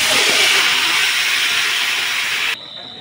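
Chicken meat hits hot oil in a pan for an onion-free curry, giving a loud, bright, continuous sizzle that drops abruptly to a quieter hiss near the end, with no talking.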